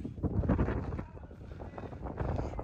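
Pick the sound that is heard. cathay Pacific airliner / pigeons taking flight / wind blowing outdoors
wind blowing outdoors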